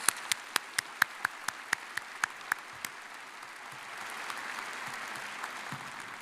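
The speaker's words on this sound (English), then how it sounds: "Another round of applause for our commencement speaker." Audience at an undergraduate spring commencement ceremony applauding for the speaker, opening with distinct sharp claps that thin into a softer, scattered ripple of clapping through the hall, no talk over it.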